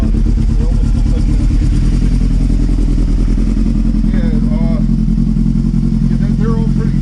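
A Yamaha YZF600R motorcycle engine idles steadily with a low, continuous rumble, while people talk over it throughout.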